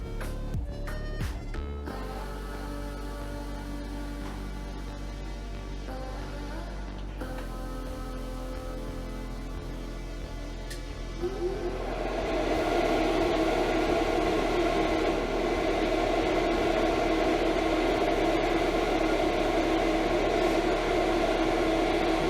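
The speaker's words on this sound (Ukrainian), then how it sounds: "вентилятор буде працювати на максимальних обертах" A steady, loud whooshing hum of an airRoxy aRil duct fan that starts quieter with motor whine, then ramps up to maximum speed into a strong, continuous rush of air.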